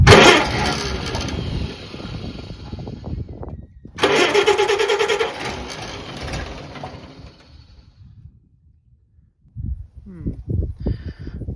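A Farmall BN tractor engine cranks without firing, its spark plug wet with fuel. Two loud, close bursts of churning crank are separated by a short pause, then things go quiet before a few faint sounds near the end.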